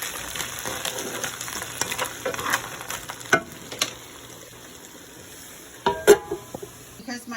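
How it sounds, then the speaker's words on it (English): Shrimp fry in a pan with onions and peppers, a soft continuous sizzle broken by several sharp clinks and scrapes of a utensil against the pan. "I'm going to throw in my shrimp."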